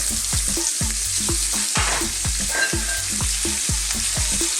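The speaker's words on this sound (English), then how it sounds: "I'm going to start off by putting in some sliced onions." Sliced onions and turmeric sizzle steadily in a hot pan for an Ethiopian beef and pumpkin stew, with repeated stirring knocks and scrapes keeping a regular rhythm over the constant frying hiss.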